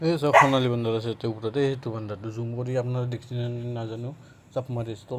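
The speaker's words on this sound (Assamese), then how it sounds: "কুকুৰটো ভুকি আছে তেতিয়া পৰা" A dog barks in short bursts near Khamrenga wetland, mostly buried under one person's continuous close talking.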